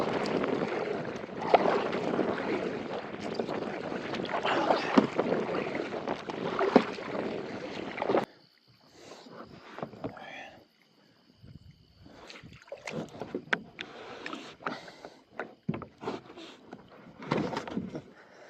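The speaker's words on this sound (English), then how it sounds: "I'm moving at a good paddling pace, which is not freaking ideal" A kayak paddled through reeds on a North Dakota lake: steady swishing and rustling water noise, then quieter intermittent splashes and scrapes from the reeds, with some wind on the microphone.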